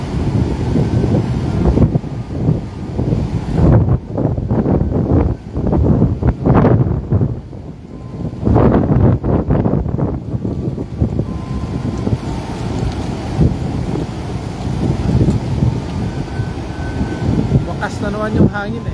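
Strong wind at sea buffets the microphone during cast net fishing, a loud rumbling roar with gusts, and someone talks over it.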